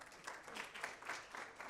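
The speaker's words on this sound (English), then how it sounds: "A round of applause." Applause from a symposium audience, fairly faint and distant, a steady patter of many hands clapping for under two seconds with no voices over it.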